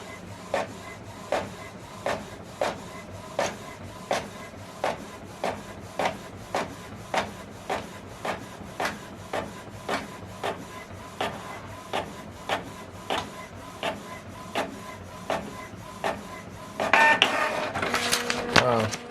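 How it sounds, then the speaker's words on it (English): A document printing on an office printer: a steady run of evenly spaced mechanical clacks, roughly one every half second, over a low hum, ending in a louder burst of feeding and rustling. "So this document is printing out."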